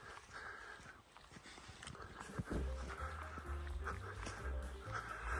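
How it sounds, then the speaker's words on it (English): About ten dogs pass on a countryside circular walk in Hertfordshire and Bedfordshire, led by one walker going the other way; a steady patter and shuffle of paws moves close by with light jingles and a few soft yips. "He must have had 10 dogs with him."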